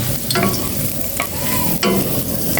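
Ginger sautéing in a frying pan gives a steady, loud sizzle, with stirring strokes scraping through it at intervals and no voices.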